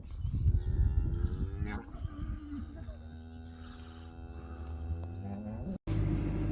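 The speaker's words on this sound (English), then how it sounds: "Just getting the cows in for milking." Dairy cows being brought in for milking moo in long, low drawn-out calls, one after another, with a deep bellow near the start and a burst of noise at the end.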